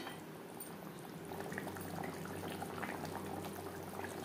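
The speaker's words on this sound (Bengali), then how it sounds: "গ্রেভির সাথে মাছ আরও 3-4 মিনিট রান্না করব।" Fish curry with cumin paste and green chillies simmers in its gravy in a pan on a gas flame, giving a steady, close bubbling and sizzling throughout with no talking.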